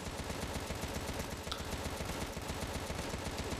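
Steady rapid gunfire clatters throughout in the Contra Rogue Corps video game, a dense continuous stream of shots with no talk over it.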